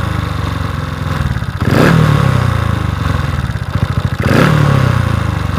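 A Honda Wave 125i motorcycle with an idle fault, running on E20 fuel, revs twice in sharp blips, each falling back to a rough, uneven idle, close and loud with no talk.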